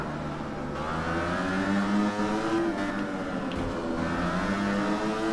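A racing motorcycle engine screams continuously in the game Valentino Rossi The Game, with a high, steady revving whine that shifts pitch slightly as it holds speed, loud and close, with no talking.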